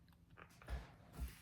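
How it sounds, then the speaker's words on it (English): Close chewing and biting of a guava fruit with hard seeds, two soft crunchy bites separated by faint mouth noise, quiet and near with no talking. "it does have some hard seeds, but I'm chewing around it."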